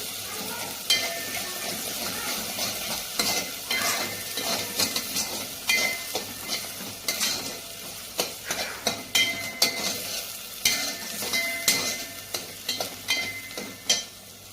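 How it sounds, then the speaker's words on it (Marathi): Chili powder frying in hot oil for chicken handi, a steady sizzle with repeated scraping stirs and light clinks of a utensil against the pan, close and continuous. "आपण त्यामध्ये काळ तिखट टाकणार आहोत आणि तीही तेलामध्ये व्यवस्थितपणे परतून घेणार आहोत"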